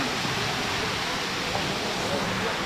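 Water pours down at Devi's Falls in Pokhara, Nepal, a constant hissing roar with no pauses, broad and unchanging, with nothing else standing out over it.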